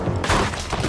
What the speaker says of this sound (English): Shoot a boulder out the air.